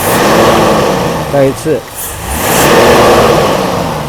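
A Mercedes R129 300SL engine on test hums and revs, dropping back as the throttle is released, with someone speaking briefly over it up close.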